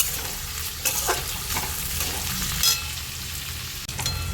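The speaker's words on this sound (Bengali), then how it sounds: "এই পেঁয়াজগুলো একটু ভাজা হয়েছে" Onions frying in a pan for chili soyabean, a continuous close sizzle with occasional stirring scrapes and small crackles.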